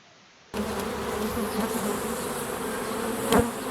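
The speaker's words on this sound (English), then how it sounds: "those bees were getting a little bit agitated with me working in their hive" Agitated honey bees swarm and buzz around an opened hive during an inspection, a dense steady drone that starts abruptly and holds close and loud throughout, with one brief louder swell near the end.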